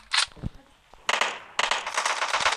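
Rapid bursts of automatic gunfire in a video game, a short burst followed by two longer sustained volleys, loud and close, with a voice speaking briefly between them.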